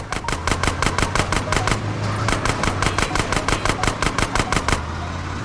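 Steady rapid bursts of automatic gunfire from GTA San Andreas gameplay, dozens of evenly spaced shots rattling loudly and continuously for several seconds with no pauses and no voices.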